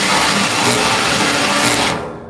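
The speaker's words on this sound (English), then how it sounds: "That's a pretty big bit for a cordless drill to run" A cordless drill spins a large bit in a steady, loud, high-pitched whirring run that holds for about two seconds and then cuts off sharply, with no voices.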